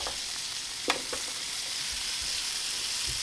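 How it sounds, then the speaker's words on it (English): Onions hit a hot sandwich press with a steady, even sizzle. A single sharp clack is heard near the start, and the frying hiss carries on alone with no talk. "Now I'll just put the bread down and I'll chuck the onions on."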